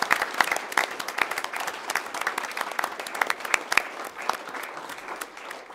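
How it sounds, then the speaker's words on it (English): Audience applause at a Coeur d'Alene city council meeting, honoring staff and responders: a steady round of many hands clapping, moderately close and dense, holding for several seconds before thinning at the end. "if you join us for another round of applause for these great staff and responders"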